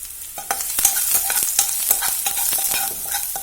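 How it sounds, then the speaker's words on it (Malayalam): Chopped garlic sautéing in ghee, loud close sizzling broken by repeated sharp scraping and stirring strokes of a spatula against the pan in an irregular rhythm, with no voice. "ഈ ഗാർലിക് ഒന്ന് ഒരു ബ്രൗൺ കളർ ആവുന്നത് വരെ ഒന്ന് സോട്ട് ചെയ്യണം"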